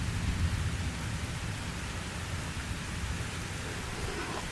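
Heavy thunderstorm rain in Bordeaux, a dense, steady hiss of downpour with a low rumble underneath, constant throughout and free of any voices.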